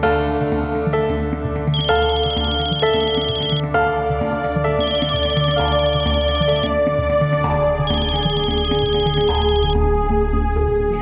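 A phone ringtone plays loudly and continuously, its bright chiming bursts repeating in a steady pattern over a droning background.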